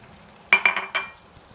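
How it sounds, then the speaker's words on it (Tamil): Wheat flour roasting in melted ghee for laddu, stirred in a pan: three short bursts of scraping and gentle sizzle close by, with brief clinks of the spoon, then the sound settles back to quiet. "நல்லா சிம்மில் வச்சுட்டு வறுத்துக்கிட்டு இருக்கலாம். நல்லா செவக்க வறுக்கணும்."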